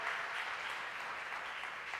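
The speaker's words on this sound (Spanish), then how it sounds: "Le damos un fuerte aplauso a Dios" A church congregation gives a sustained round of applause during a Spanish-language service, a soft, even wash of clapping that sounds distant and quiet.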